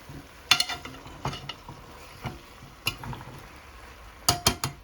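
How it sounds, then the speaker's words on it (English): Squash and duck meat stir-frying in a pan over raised heat, with a steady soft sizzle and scattered sharp clinks and scrapes of a utensil against the pan. "At this time I'm gonna add the squash in. And I'm gonna turn this up and let it cook."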